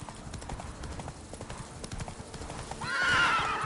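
Horse hooves clip-clop steadily in a Witcher 3 game scene, then a loud whinny rises near the end, close and clear over a faint ambient background.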